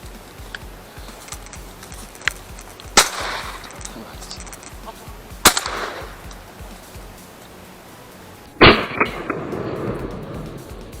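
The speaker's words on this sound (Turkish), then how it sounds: "Silah attılar." A few sharp gunshots ring out at intervals during pigeon hunting outdoors, three or four separate reports, moderately loud against a steady background hiss.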